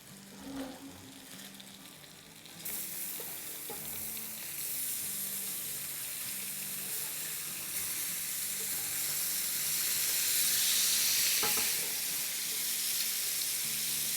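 Seekh kebabs sizzle and fry in a pan, a steady crackling hiss that starts faint, then swells and holds loud, with occasional louder pops and stirring sounds.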